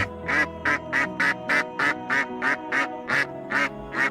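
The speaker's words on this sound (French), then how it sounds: "Non, non, c'est un canard, dit le mari." A duck quacks in a steady run of about eleven evenly spaced, loud, nasal calls, close and alone with no voices over them.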